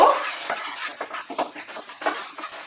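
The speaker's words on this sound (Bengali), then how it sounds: "মশলাটাকে ফ্রাই করব" Spice paste for a Bengali vegetarian potol (pointed gourd) and potato kalia fries in a pan with turmeric, salt and sugar, broken up by scraping stirs and utensil clinks against the metal, close and fairly quiet.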